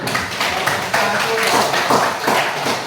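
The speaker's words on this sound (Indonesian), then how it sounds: "Oke, tepuk tangan dulu." Classroom applause from students in a mathematics lesson, a few seconds of uneven hand clapping in loose rhythmic bursts, fairly close, with some voices mixed in.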